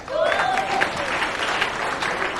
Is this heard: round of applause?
yes